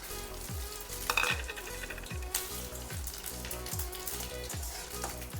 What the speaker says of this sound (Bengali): তেলটা বেশ গরম হয়ে গেছে, এখন ফোড়নে দিচ্ছি একটা শুকনো লঙ্কা, একটা তেজপাতা, গোটা জিরে আর একটু দারচিনি